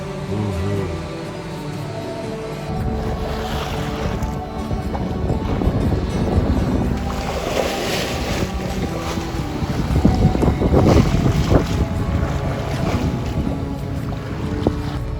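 Sailboat under sail with its motor off, with continuous wind buffeting and rushing water along the hull, steady and close throughout.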